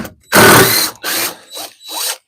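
Screws are backed out of the rotten floor of an old shed with a ratchet tool, giving four loud, close bursts of clicking that shorten and soften toward the end.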